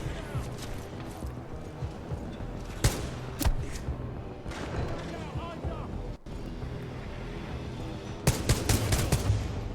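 Semi-automatic weapon fire in Titanfall 2 comes as loud, sharp single shots amid busy game noise, with a player talking over the action.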